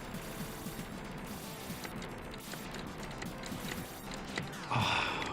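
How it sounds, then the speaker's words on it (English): Rapid machine gun fire from the NES run-and-gun game Contra, in the second base stage, rattling steadily amid dense game sound effects and music, with a brighter burst near the end. "we're gonna do this with the machine gun"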